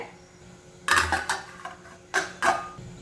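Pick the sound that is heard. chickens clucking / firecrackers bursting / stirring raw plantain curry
stirring raw plantain curry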